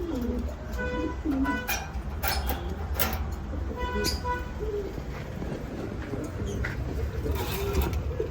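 Fancy Red Lahori pigeons coo repeatedly in soft, low, throaty phrases. Several birds overlap at close range, with some chirps over a steady background rumble.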